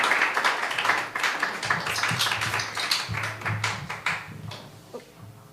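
Audience applause at an open mic night, a burst of hand claps close by that stays dense for several seconds, then thins out and tapers off toward the end.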